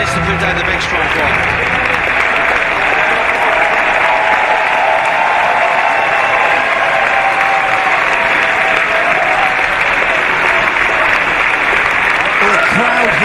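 Sustained, dense applause from a large crowd at Wembley after a Walter vs Tyler Bate wrestling title match, loud and continuous throughout, with cheering blended into the clapping.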